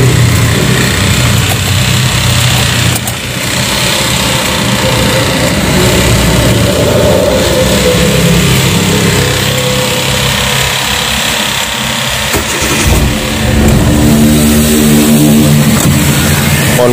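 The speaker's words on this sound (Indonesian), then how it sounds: "ini dia suaranya, suara mesinnya ya" Car engine started and running in a driveway during a pre-holiday-trip check, a loud steady idle holding throughout with slight revs, mixed with nearby renovation noise.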